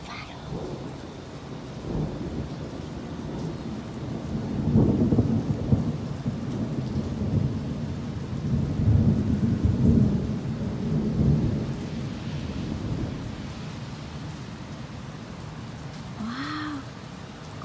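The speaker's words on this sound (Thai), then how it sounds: "ได้ยินเสียงฟ้าร้องด้วย นานๆจะได้ยินเสียงฝนตก" Low rolling thunder rumbles in waves over steady rainfall in Las Vegas, swelling and fading twice, with a brief cat-like cry near the end.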